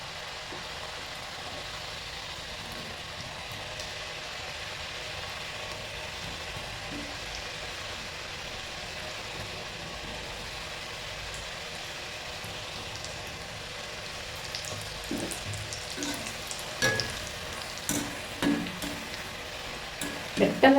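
Homemade Bombay mixture frying in hot oil, a steady even sizzle throughout, with sharper crackles and pops growing near the end.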